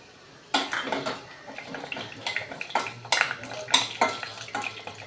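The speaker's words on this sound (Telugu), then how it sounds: "ఆయిల్ హీట్ ఎక్కిందండి ముందుగుండా పల్లీలేమో తీసుకొని ఇందులో ఆయిల్లో వేసి వేయించుకొని" Peanuts tipped into hot oil and stirred for an ivy gourd peanut fry: a sudden onset of crackling sizzle followed by repeated scraping stirs and clatter in the pan, close and fairly loud.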